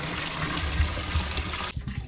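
Red coconut water pours steadily in a continuous close liquid splash, then stops abruptly near the end, leaving a quieter room with faint thuds.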